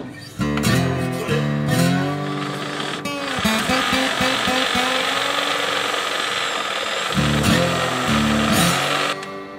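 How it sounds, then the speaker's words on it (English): A power drill whines steadily at close range, with its motor pitch shifting as it bites and eases off, running almost continuously with brief stops while drilling holes in a vehicle firewall. "Always a good time drilling holes in your firewall."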